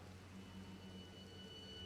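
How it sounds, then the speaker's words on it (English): Rain falling in the video game Elden Ring: a faint, steady, even hiss with no distinct drops and no talking. "Oh, here's the rain."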